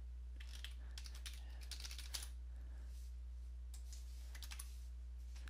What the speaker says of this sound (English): I'm going to type in my computer password.